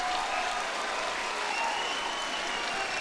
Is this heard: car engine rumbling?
no